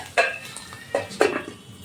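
A lid set onto a frying pan of paneer, a few sharp metallic clinks and taps in quick succession, close by with faint background noise.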